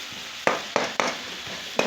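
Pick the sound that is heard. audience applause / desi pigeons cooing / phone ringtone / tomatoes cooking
tomatoes cooking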